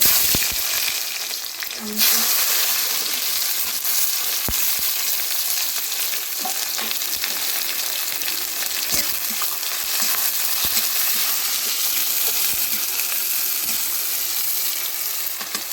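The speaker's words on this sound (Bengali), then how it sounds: "এবং তেলের উপরে দিয়ে দিলাম পেঁয়াজ" Onions hit hot oil and sizzle loudly, a dense, continuous close-up frying hiss with occasional small pops and stirring scrapes, steady for the whole stretch.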